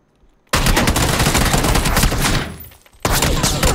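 Rapid automatic gunfire in the PC battle-royale game PUBG, loud dense bursts that start abruptly, run for about two and a half seconds, pause briefly, then resume.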